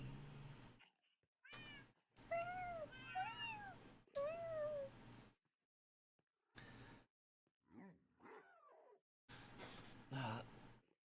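A person imitates a cat, giving a run of convincing rising and falling meows in short bursts separated by silent gaps, close and fairly clear, with some breathy sounds between them.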